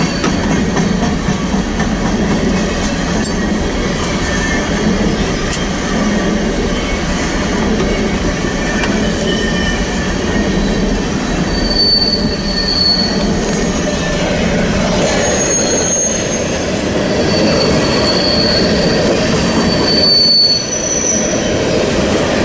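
Freight train rolling past in Ashland, Nebraska, loud and close, a continuous heavy rumble of railcars with high wheel squeals cutting in and out over it.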